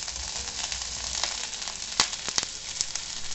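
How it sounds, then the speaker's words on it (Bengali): Onion and capsicum strips sizzle steadily in a hot pan, a continuous bright frying hiss broken by a few sharp spatula clicks near the end, with no voices. "এই পেঁয়াজ আর ক্যাপসিকামটা প্রথমে আমি খুব ভালো করে ভেজে নেব"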